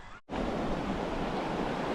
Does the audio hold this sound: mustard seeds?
no